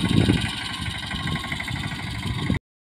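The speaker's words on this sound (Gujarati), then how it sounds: "આગળ ટ્રેક્ટર રાખવાની છે હીરા" Tractor engine running in a farm field, a steady close mid-pitched idling rumble with a regular chugging pulse, heard alone for a few seconds before cutting off.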